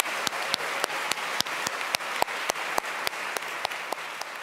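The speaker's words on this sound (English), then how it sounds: "Please give all of them a hearty round of applause together." A fairly faint crowd at a college opening convocation applauds steadily, a dense wash of clapping with a few sharp individual claps standing out.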